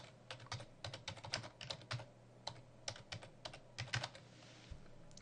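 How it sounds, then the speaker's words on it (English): Typing on a computer keyboard, clusters of quick close key clicks in uneven bursts with short pauses, faint and alone. "the first thing I might want to do is type in the first major keyword in there"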